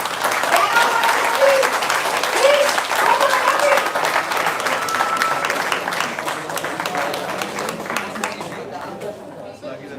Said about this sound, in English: Where are the applause?